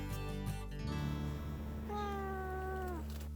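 Feral cats in the back room of a city shelter, a couple of drawn-out meows, the last one long and clear, heard over a steady low background hum.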